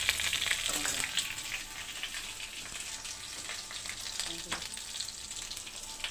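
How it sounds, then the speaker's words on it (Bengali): Pointed gourd sizzles steadily in hot oil as it fries toward a reddish colour, a continuous close crackle broken by a few scraping stirs. "এবার এটা লাল করে ভেজে নিতে হবে। একটু লাল করে ভেজে নিই।"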